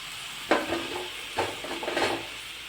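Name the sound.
tomatoes added to a sizzling pan for paneer curry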